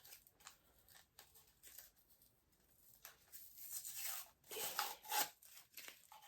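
Paper is peeled and torn from the top layer of a Nine West shoe box with quiet rasping rubs that build into a few louder tearing pulls near the end, close and faint overall with no voices.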